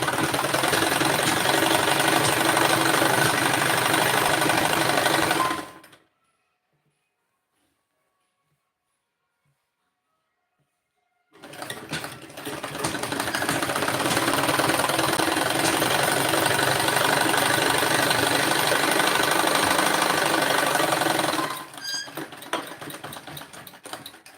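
A sewing machine stitches a salwar hem, running loud and steady for about five seconds, falling silent for several seconds, then whirring continuously again for about ten seconds.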